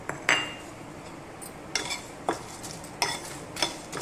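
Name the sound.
roasting spices in a pan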